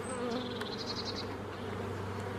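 Honey bees buzz around an open hive during a spring inspection, a steady close-up drone with a brief higher whine from a single bee passing near.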